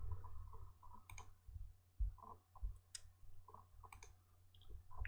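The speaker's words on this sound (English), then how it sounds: "click on uninstall a program" A computer mouse clicks quietly several times at an uneven pace, each click short and close, over a faint low background hum with no talk.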